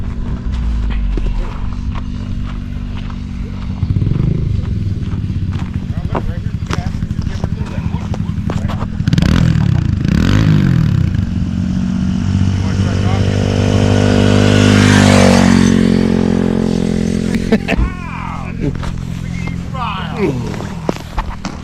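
An ice racing motorcycle started and idling nearby, its engine chugging steadily and rising to a louder rev midway before settling, while people talk over it.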